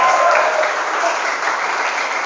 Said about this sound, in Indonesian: Tepuk tangan untuk Asyuja Generation.